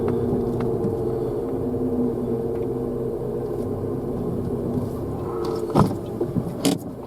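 Ford Ka small hatchback engine idling and pulling out of a parking space, a steady low hum close by, with a couple of sharp clunks and rattles near the end.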